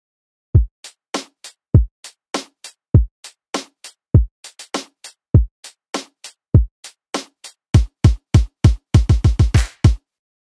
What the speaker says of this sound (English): So I muted these chords so we can hear this drum pattern that I've added.